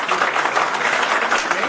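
An audience at a Karni Sena workers' conference in Jharkhand claps in a dense, steady burst of applause to welcome a speaker, filling the room evenly from start to finish.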